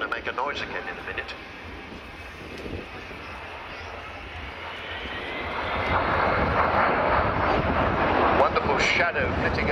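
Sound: Avro Vulcan XH558 bomber jet engine noise during air display

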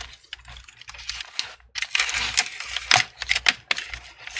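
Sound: metal prying tool cutting screen adhesive on HP laptop bezel

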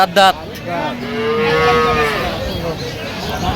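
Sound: cow mooing at a cattle market

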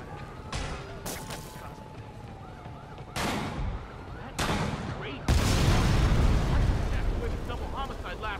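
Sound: sniper rifle gunfire in Spider-Man video game

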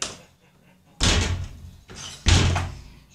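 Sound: door closing in a video game

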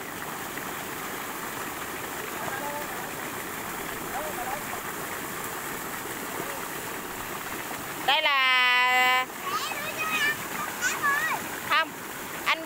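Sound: mountain stream flowing

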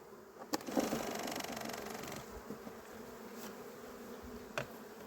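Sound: honey bees buzzing on a shaken hive frame

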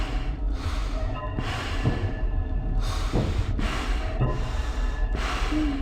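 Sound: heavy breathing through a mask, video game

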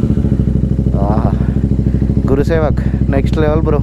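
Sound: Royal Enfield Interceptor 650 engine starting with stock air filter

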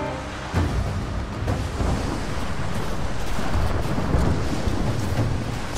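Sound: approaching thunderstorm in video game Rise of the Tomb Raider

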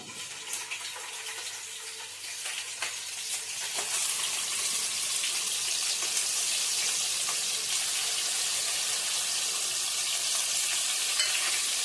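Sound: onion frying in oil for crab curry

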